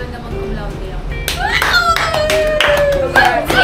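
A small group at a Friendsmas holiday gathering breaks into clapping for a cum laude graduate. After a stretch of murmured talk, several sharp, close hand claps burst out in a loose cluster, with voices going on underneath.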